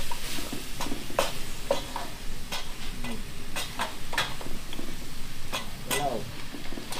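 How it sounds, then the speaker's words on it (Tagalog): Garlic and onion sauté in melting margarine while a spatula scrapes the pan in sharp, irregular strokes over a low sizzle, and a voice speaks faintly in the background. "gisa-gisa lang natin yung ating bawang sibuyas sa"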